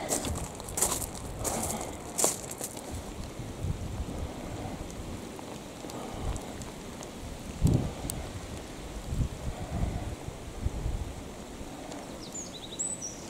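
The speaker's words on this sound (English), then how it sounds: "We made it just as the rain arrived." Rain falls at a beach with a steady, soft hiss, broken by scattered louder taps and gusty bursts. No one speaks.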